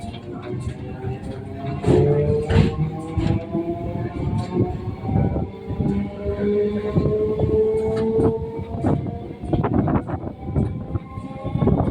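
A passenger train between Krishnanagar and Ranaghat rumbles steadily along the rails with rhythmic clacks and a continuous low roar while crossing the Churni River; people talk faintly underneath.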